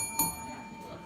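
A single bell struck as a time warning at a political forum in Taos, New Mexico, rings once sharply then fades into a sustained metallic tone over a quiet room.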